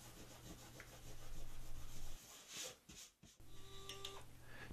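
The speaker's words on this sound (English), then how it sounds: "I rub off the tape residue with my thumb, leaving a nice clean," A thumb rubs tape residue off a wooden pivot disc from a router circle-cutting jig, giving a steady close-up friction scrape that pauses briefly and resumes, alone without speech.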